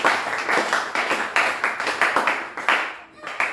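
A church congregation claps for the Lord in dense, steady waves of applause that stay loud and close throughout, with voices mixed in and a brief dip near the end.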